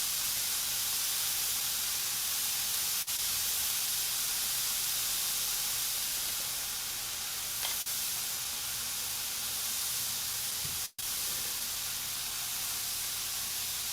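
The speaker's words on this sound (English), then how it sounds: "we're just getting these Brussels in, give them a little mix, let them cook" Brussels sprouts cook in a pan with a steady, even hiss of sizzling and steam that holds unchanged for a long stretch, broken only by an occasional faint click.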